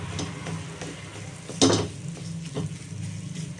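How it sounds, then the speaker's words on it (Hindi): Ginger and date candy mixture dry-roasting in a pan on low flame, soft scraping and stirring with one louder clatter of the spoon against the pan, close and fairly quiet. "इसको धीमे आंच पर इसी तरह थोड़ा सा जब करके सेक लेंगे"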